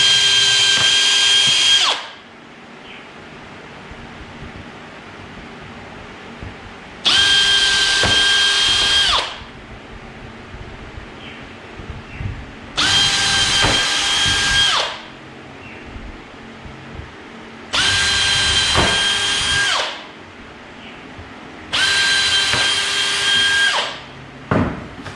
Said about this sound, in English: So I'm just going to pre-drill the holes just through the plywood.